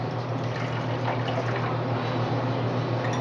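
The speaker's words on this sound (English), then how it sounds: "I'm just going to add just a little bit of water to each one" A small amount of water poured into each cup of an empty muffin tin while making banana chocolate peanut butter muffins, heard as a steady, soft trickle over a constant low hum.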